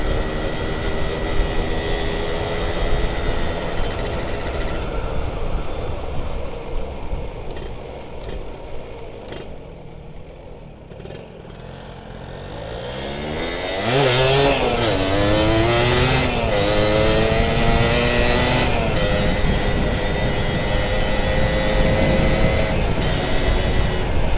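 A Suzuki Satria two-stroke motorcycle engine runs steadily, dips, then revs up and down repeatedly with rising and falling pitch, loud and close throughout with no talking.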